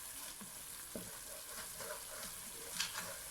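Masala spices fry in a pan, a soft sizzle with a few scraping stirs of a spoon, close and fairly quiet.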